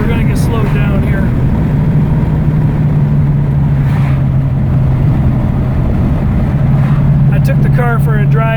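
A 1934 Chevy all-steel touring car cruises along with a constant loud low engine drone and road rumble, a steady hum running throughout while someone talks over it.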